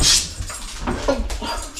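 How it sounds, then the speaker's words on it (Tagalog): A dog in Edmonton, Alberta whimpers and whines in a brief, close, fairly loud burst, with a high-pitched cry at the start followed by softer uneven whining. "Mga aso natin na to."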